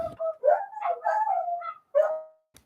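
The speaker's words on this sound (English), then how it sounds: "my dog howls at the fire engines" A dog howls at passing fire engines, a close, wavering series of cries with a short break before a final drawn-out note, alone with no talk.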